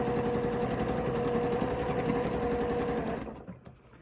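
A sewing machine stitches a pinned quilt block for a pinwheel pattern with a steady, loud, buzzing whir that runs continuously, then stops near the end and leaves quieter handling sounds.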